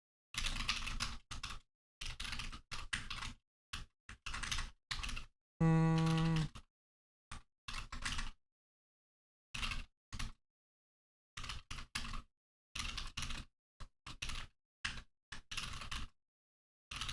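Bursts of fast clicking on a computer keyboard during a C++ coding session, close and crisp, coming in short irregular runs separated by silent pauses, with one brief low tonal hum in the middle.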